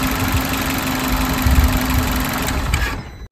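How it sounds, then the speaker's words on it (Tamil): A 3-cylinder micro SUV engine idling with a steady rough thrum close by before cutting out at the very end, leaving near silence. "ஸோ வண்டி இப்போ ஆஃப் பண்ணுறேன்."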